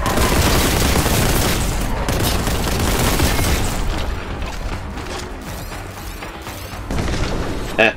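Dense, loud barrage of gunfire and grenade explosions from the retro shooter game Warhammer 40K: Boltgun, continuous broadband blasts across the whole stretch with a brief renewed burst near the end.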